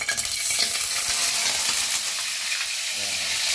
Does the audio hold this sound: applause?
no